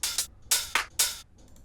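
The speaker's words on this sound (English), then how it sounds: "And then I added another closed hi-hat," Low closed hi-hat in a future house drum loop, playing short bright ticks in a quick irregular pattern, about five hits, heard alone with no other instruments.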